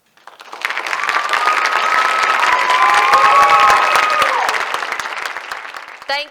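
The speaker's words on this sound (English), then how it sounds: "Thank you very much for clapping." Theatre audience applauding at the end of a stage play of The Curious Incident of the Dog in the Night-Time, a dense, steady wash of many hands clapping with some cheers and shouts, swelling quickly and holding for several seconds before fading.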